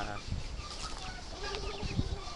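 Fighting cocks and other chickens cluck and call at a backyard gathering, scattered short bird sounds over a constant background murmur of people talking.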